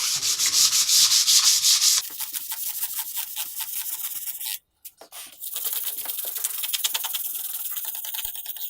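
Rapid back-and-forth sandpaper strokes rub a guitar neck being refretted, stripping old fret marks, close and steady, with a brief silent pause in the middle before the rhythmic scrubbing resumes.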